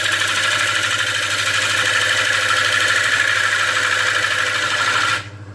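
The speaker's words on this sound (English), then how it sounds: "go across the bowl with the bowl gouge cutting like this." A wood lathe spins a bowl while a bowl gouge cuts across it, making a steady, loud whirring hiss over a low motor hum that cuts off abruptly near the end.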